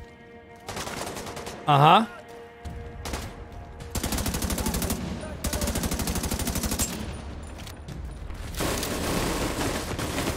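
Bursts of machine-gun fire from The Division 2 video game, sustained rattling volleys that start, stop and resume across the clip, mid-distance and loud, with a brief voice and other game noise layered in.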